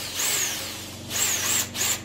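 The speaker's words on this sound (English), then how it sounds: "you're gonna wanna keep the drill on a low speed" A power drill running at low speed with a lubricated bit boring into a 383 big block engine block, a steady whirring whine in two close, loud runs with a short pause between them.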